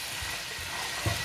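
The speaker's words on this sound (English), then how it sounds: "So now that has melted, I'm just gonna add my garlic to it." Garlic sizzling in a pan of melted fat, a soft steady frying hiss with a faint stir near the end, close and fairly quiet.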